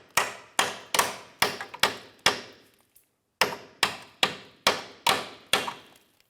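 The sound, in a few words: hammer tapping a bolt into a Ford 500 control arm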